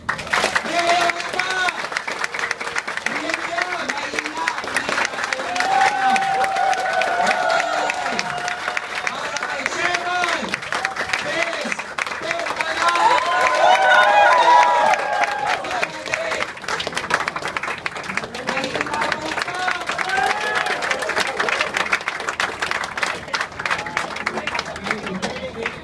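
Sustained applause and cheering from an audience at a smartphone and Facebook earning seminar, a steady wash of clapping with crowd voices that swells around the middle and continues throughout.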